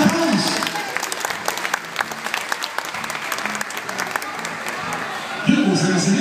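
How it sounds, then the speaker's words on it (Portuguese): An audience applauds a magician's act with scattered, moderately loud claps. A voice talks over the clapping, and a louder voice returns near the end. "Um aplauso."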